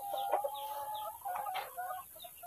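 Hens and chicks in a backyard garden cluck and peep continuously, with a thin high chick call running under the nearby clucks; no one speaks.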